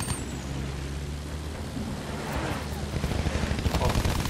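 Gunfire in the video game Battlefield 1, rapid bursts and rattling shots layered over rumbling battle noise, growing denser toward the end, while a player talks over it.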